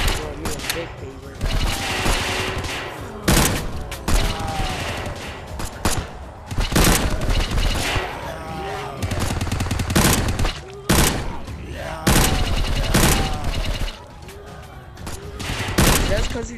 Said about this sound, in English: With the Uzi, look at he is shooting mad zombies.